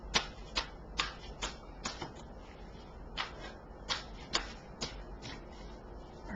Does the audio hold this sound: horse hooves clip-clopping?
no